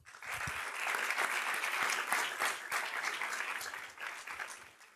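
A council swearing-in ceremony audience applauds in a sustained, dense round of clapping that fades at the end, with no talking over it.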